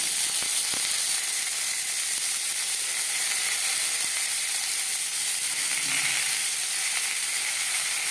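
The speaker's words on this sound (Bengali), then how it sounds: "আম হালকা করে ভেজে নেবো" Raw mango pieces sizzle and fry in a pan, a continuous bright crackling hiss from start to finish without any talking.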